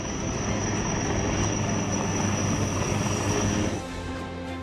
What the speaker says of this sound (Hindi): अचूक मारक क्षमता वाला ये कॉम्बैट हेलीकॉप्टर जब गगन को चीर कर आगे बढ़ता है तब इसकी गर्जना से ही दुश्मनों को सांप सूंघ जाता है